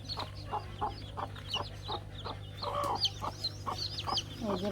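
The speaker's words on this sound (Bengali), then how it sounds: "এই যে এখানে আছে অনেকগুলো মুরগির বাচ্চা আছে, আর এটা হচ্ছে মুরগির বাচ্চাদের মা" A mother hen clucks steadily among her many chicks, whose high peeps chirp over the repeated clucks. The sound is close and continuous, with no talking.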